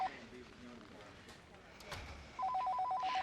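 A telephone rings at a dinner setting, its electronic trilling bursts starting near the end after a stretch of quiet room murmur with faint voices.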